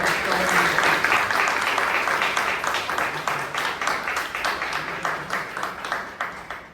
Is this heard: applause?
yes